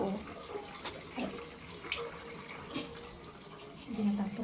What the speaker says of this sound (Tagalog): Hindi ko pala na-off yung tubig.